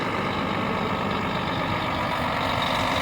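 An old lorry engine at a steam show rumbles steadily throughout, a continuous low idling drone with no voices over it.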